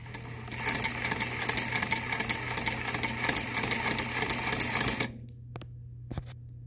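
An Improved New Goodrich sewing machine running with a steady mechanical whir and rapid clatter for about five seconds, then stopping, followed by a few isolated clicks.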